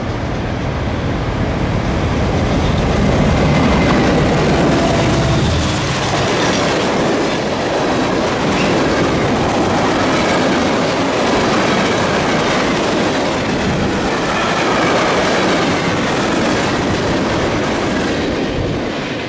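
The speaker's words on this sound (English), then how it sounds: "The train was sprinting, giving us a run for our money at 65 miles an hour." A train rumbles past at about 65 miles an hour in Montana, loud and continuous, with clattering wheels on the rails throughout.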